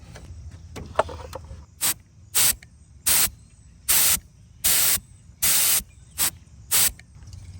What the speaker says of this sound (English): you can spray some brake cleaner down into there